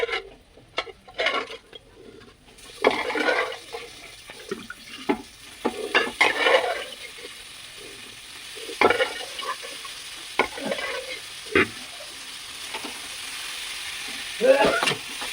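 Pre-boiled mutton is stirred and fried in a pot for a Bengali mutton and pulao dish, with intermittent scraping strokes and soft sizzling close by and no voices.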